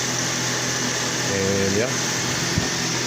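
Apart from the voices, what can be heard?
Toyota 2ZZ-GE engine idling after timing cover gasket replacement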